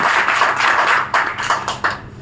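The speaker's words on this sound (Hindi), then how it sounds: "मैं चाहूंगा तालियां दीजिए बहन के लिए" Audience clapping for an advocate at a leaders' meeting in Haridwar, a steady patter of hands from a modest group that thins into a few separate claps toward the end.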